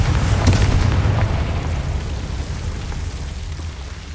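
A Confringo fire spell in a Hogwarts Legacy-style wizarding game bursts with a loud, booming blast that swells early and rolls away into a long, rumbling decay, with no voices over it.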